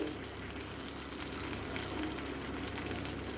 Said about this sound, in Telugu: మసాలా అంతా పీతలు పట్టేటట్లు బాగా కలుపుకుంటూ తిప్పుకోండి